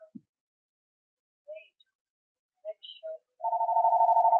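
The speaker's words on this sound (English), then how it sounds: "that's the phone" A telephone rings with a steady electronic tone that starts near the end after a few faint scattered blips, close and clear with nothing else around it.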